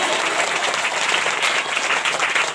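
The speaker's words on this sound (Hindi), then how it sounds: "ताली बजा के धन्यवाद करेगा।" A church congregation claps together in steady, dense applause that fills the whole moment at an even loudness.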